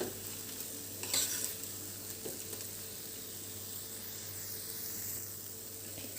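Choux pastry dough with vanilla sugar being stirred in a pan, soft scraping strokes over a faint continuous sizzle, with a brief louder scrape near the start, close and quiet.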